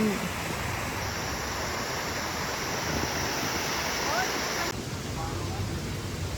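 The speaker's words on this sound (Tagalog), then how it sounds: "Tumalog waterfalls." Tumalog Falls in Cebu gives a constant, dense rushing roar of falling water, steady and fairly loud throughout with no clear breaks.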